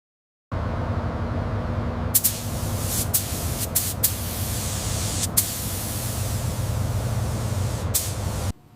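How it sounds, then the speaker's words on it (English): A paint spray gun hisses steadily and loudly onto a classic Porsche 911 body, one continuous close blast with a few brief pulses from the trigger, then it cuts off. "An iconic classic Porsche color is sprayed layer by layer."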